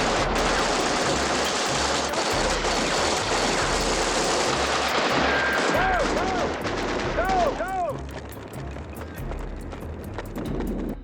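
Gunfire sound effect in a war scene of a disguised German soldier opening fire at a Red Army post, dense sustained bursts of shooting under a busy battle mix with whistling sweeps, fading lower toward the end.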